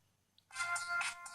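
A bright electronic ringtone plays from a Zeblaze THOR round Android smartwatch, starting after a short quiet pause with a tiny blip, then a clear melodic run of tones up close.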